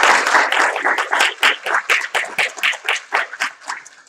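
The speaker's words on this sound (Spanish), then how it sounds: "Un aplauso." A small audience at the final of a debate tournament claps in a close, rhythmic burst of applause, the individual claps falling into a near-steady beat.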